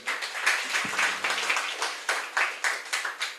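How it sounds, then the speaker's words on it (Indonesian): A seminar audience gives a short round of applause, a quick run of clapping that rises and falls in small surges, fairly faint, with a brief low tone partway through. "Tepuk tangan buat teman-teman."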